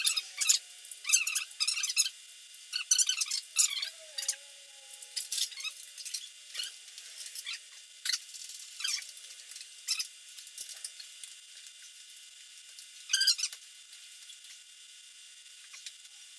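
Hand wrench ratcheting and turning bolts while a Subaru engine is pulled, a run of short metallic clicks and squeaks in irregular bursts, close and fairly quiet, with no talking.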